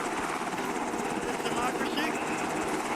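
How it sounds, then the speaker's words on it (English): Helicopter rotor and engine roar steadily in an Arma military video game, a constant loud drone with rapid blade chop and no break across the whole stretch. "Yeah, that's a chopper, dude."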